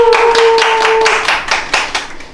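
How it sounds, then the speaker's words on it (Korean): A small group claps in a Korean online-shopping lecture room, around ten distinct, fairly rhythmic claps close by, with a steady electronic tone under the first half. "박수로 시작했는데"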